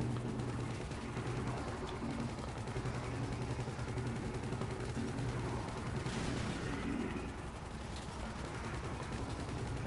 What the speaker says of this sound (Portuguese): Quem tá na outra metralhadora aí, Pascoal?